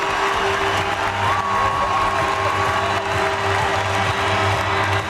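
Arena crowd cheering and applauding after Canada scores a backhand goal in a women's ice hockey exhibition against the USA, a steady loud roar of cheers and whoops with a low organ-like tone running beneath.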